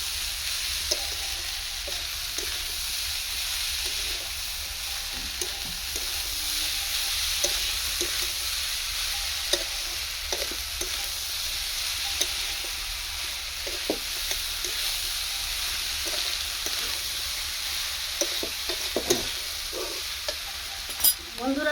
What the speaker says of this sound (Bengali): এইভাবে চালটাকে একটু ভেজে নেবো